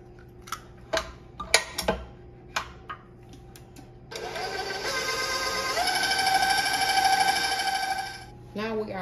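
An electric mixer blends eggs into chocolate chip cookie batter, starting after a few clinks and taps and then running as a steady, loud whirring hum that rises in pitch before stopping.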